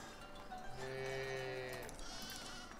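Sheep bleating in the video game Foundation, one drawn-out bleat rising clearly over a soft ambient game background, fairly close and alone without talk.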